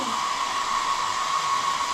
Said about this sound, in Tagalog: Ngayon, it's time to blower ang hair.